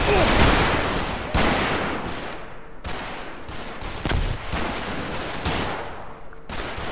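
Bursts of machine gun fire rattle in the Combat Mission: Market Garden war game, several loud rapid volleys separated by short gaps, with distant booms mixed in.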